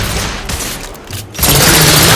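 Thermite rifle firing in the game The Order: 1886, a couple of loud bursts giving way to a sustained, dense roar of discharge that carries to the end with no voices.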